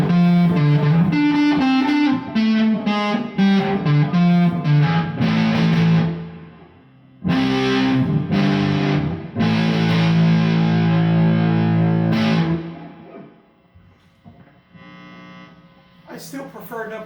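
Electric guitar played through a fuzz pedal, thick buzzing distorted chords and riffs in bursts with short breaks, close and loud, fading to quieter noodling near the end.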